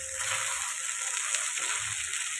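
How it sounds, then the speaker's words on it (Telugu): Okra fry seasoned with chili powder sizzles steadily in a pan while being stirred, a loud, continuous close-up hiss with no voices. "ఇప్పుడు కారం వేసుకున్నాం. ఇప్పుడు కలుపుకున్నాం"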